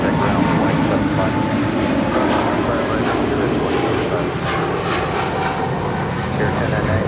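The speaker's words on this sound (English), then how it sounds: "That is Air China 988 departing to Beijing on a 777-300ER." An Air China Boeing 777-300ER jet roars steadily as it departs LAX, a loud, continuous broadband engine rumble that holds level throughout without pause.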